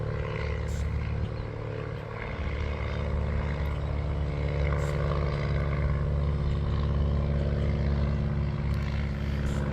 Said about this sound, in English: there goes another pilot or a plane flying or whatever.